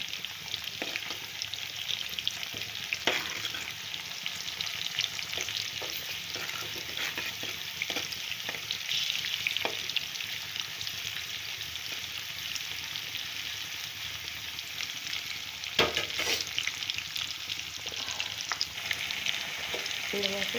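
Ingredients for a prawn and gongura curry frying in a pan, a continuous close sizzle with occasional soft scrapes and stirring knocks, steady and unbroken for the whole stretch with no voices.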